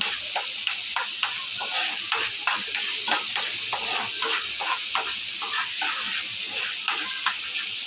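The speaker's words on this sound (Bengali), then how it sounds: "একটু জল দিয়ে দিচ্ছি তো এখন ভালো করে মশলাটা কষিয়ে নিব" Masala cooks down in a pan with a splash of water, giving a loud steady hiss and sizzle under brisk, regular stirring strokes close by, with no speech.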